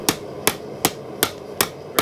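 A hammer strikes hot steel six times at an even pace of roughly one blow every 0.4 seconds while a bottle opener is forged, each ringing tap sharp and close with no voices.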